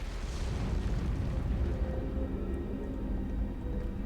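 A deep, rumbling explosion in the video game Outer Wilds rolls on as a dense, sustained roar that slowly fades, with no voices over it.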